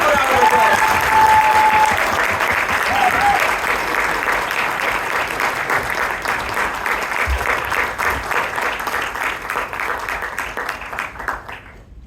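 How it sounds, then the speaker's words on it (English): A full room claps for a founder president called on stage at a Toastmasters meeting in Bangalore, a dense, sustained round of applause that gradually thins and fades out near the end. "Give him a round of applause."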